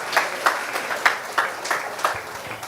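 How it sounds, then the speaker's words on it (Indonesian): A congregation listening to a church testimony claps in a slow, loosely rhythmic pattern, with distinct claps landing roughly every third of a second at moderate loudness and no talking over them. "tepuk tangan dulu."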